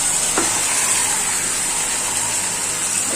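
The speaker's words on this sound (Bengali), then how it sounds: "এখন আমি যে মাংসগুলো ম্যারিনেট করা মাংসগুলো ছেড়ে দিব।" Marinated meat coated in onion paste and yogurt drops into hot oil, giving a steady, close sizzling hiss that stays even throughout, with a brief splash-like burst near the start.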